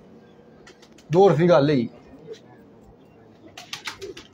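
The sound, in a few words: pigeon cooing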